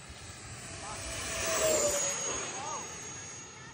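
Airplane coming in to land, a broad jet-like roar swelling to a peak midway and easing off, heard from nearby with people talking over it.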